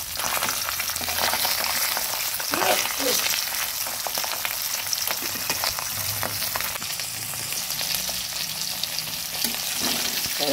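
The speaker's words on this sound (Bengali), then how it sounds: "একটু পাল্টে সবগুলো মাছ আমি ভেজে নিয়েছি" Pabda fish fry in oil in a wok with a dense, continuous crackling sizzle, close and fairly loud, with a few faint clinks of a utensil and no voices.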